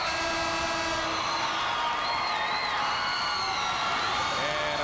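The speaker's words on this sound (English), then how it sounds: "big, rousing round of applause. A standing ovation is number 32" A crowd at a 1996 high school boys basketball state tournament game cheers and applauds in a loud, constant roar with whoops, the sound filling the gym evenly throughout.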